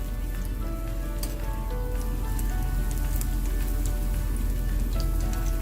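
Baby plantain fritters fry in oil on low-medium heat, giving a steady, even sizzle and fine crackle like rain on a surface, continuous and close with no talk.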